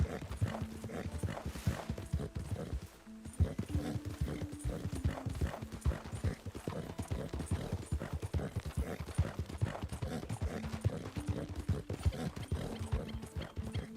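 A horse's hooves clip-clop in a steady, even gait in Red Dead Redemption 2, fairly quiet and continuous, with a brief snort or whinny early on.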